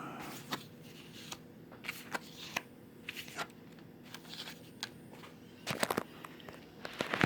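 Cardboard lesson cards from a Star Wars Life board game are handled and shuffled, giving soft scattered taps and flicks, quiet and close, with a denser cluster of rustling near the end.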